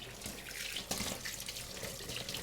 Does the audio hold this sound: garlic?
no